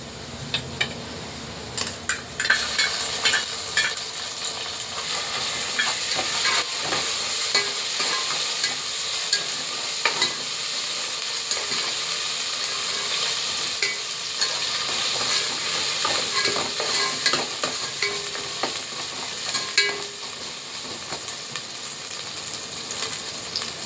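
Ginger garlic paste frying with browned onions in a pan, steady sizzle under repeated scraping and clinking of a spoon stirring against the metal, close up and continuous with no talk.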